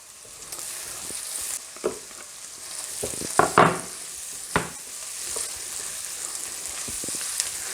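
Mushrooms fry in a pan with garlic and dill, giving a steady broadband sizzle. A few sharp stirring scrapes and clatters stand out, loudest around the middle. No one speaks.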